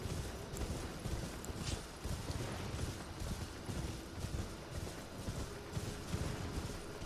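Torrent, the spectral horse in the video game Elden Ring, clip-clopping steadily at a walk with hooves on ground, under a dense, continuous bed of game ambience and music.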